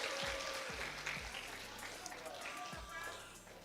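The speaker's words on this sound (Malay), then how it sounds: "Tepuk tangan." Applause from a gathered crowd at a Sunday church service event, dense hand clapping sustained throughout under a speaking voice over a sound system.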